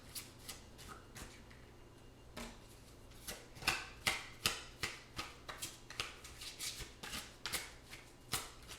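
Tarot cards being shuffled by hand, with quiet riffling at first building into a steady run of crisp, sharp flicks and slaps close by, no speech.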